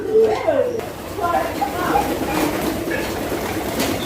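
Pigeons at a fancy pigeon farm in Bangladesh, a few birds let loose, giving low soft coos that sit under someone talking nearby.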